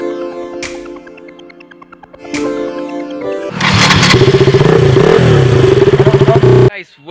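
A KTM Duke 200 motorcycle engine heard close and loud: a couple of short cranking bursts, then it fires up into a rough, pulsing idle and revs before cutting off abruptly.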